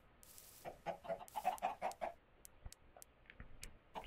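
A crowd of chickens in Minecraft, played on hard mode, clucking in quick overlapping bursts, loud and near, with scattered clicks and game noises and no speech.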